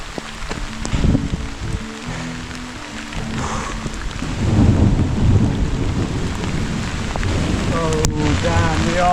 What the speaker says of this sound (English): Here's our first bit of rain.